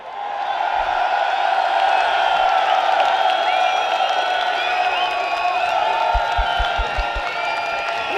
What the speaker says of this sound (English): I want the loudest roars and a round of applause to Elon Musk.